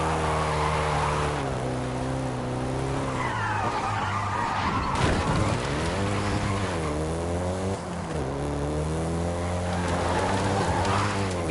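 A Volkswagen Golf GTI in Forza Horizon 5 drives and skids, its engine droning loudly with rising and falling revs while tire squeal and skidding noise swell over it, close and continuous throughout.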